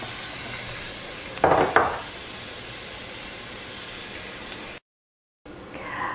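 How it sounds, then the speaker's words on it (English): Mushrooms frying in hot oil for risotto, a steady close sizzle with a couple of louder crackling bursts, a brief gap of silence, then the sizzle resumes. "We're going to put them in that nice hot oil and get them cooking."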